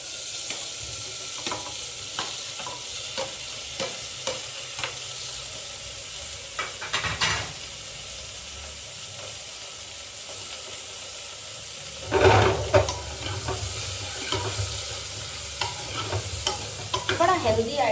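Onions frying in a pan under a constant hiss, with rhythmic spatula stirs and scrapes and a couple of louder bursts of sizzling, heard close with no voices.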